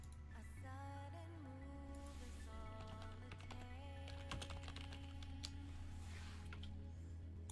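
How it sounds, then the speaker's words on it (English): Quiet typing on a computer keyboard taps in irregular bursts beneath a low electrical hum and faint tonal background sounds, with no talking. "Lots of typing."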